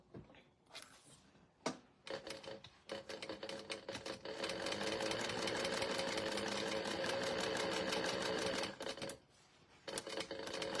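An industrial sewing machine chain sewing pieces of a cosmetic case, a few short stitching bursts giving way to a long fast run of rapid mechanical clatter, close and steady, before slowing to quieter taps.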